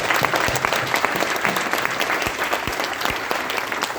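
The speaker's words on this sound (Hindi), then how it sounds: "तो मैं चाहूंगा एक परम पिता परमात्मा के लिए जोरदार तालियां हों।" A crowd applauds loudly at an Indian gathering, many hands clapping in a thick, continuous wash that holds steady from start to finish.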